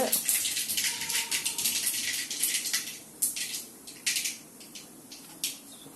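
Mustard seeds spluttering and popping in hot peanut oil, a dense hissing crackle with bursts of sharper pops, close and steady, easing slightly toward the end.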